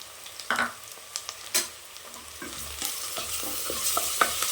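Onions sautéing in a pan for mushroom biryani, a close crackling sizzle broken by several sharp spatula scrapes and stirring knocks, loud early and then settling into steadier frying.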